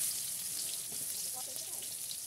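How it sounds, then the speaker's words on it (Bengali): Potatoes frying in mustard oil in a pan, a steady soft hiss and crackle that holds evenly throughout. "আলু দিচ্ছি, আলুটা ভেজে নেব"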